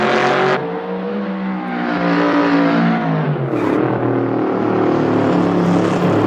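A turbocharged car accelerates hard down a straightaway, its engine note rising and falling through gear changes, loud and close throughout with no speech.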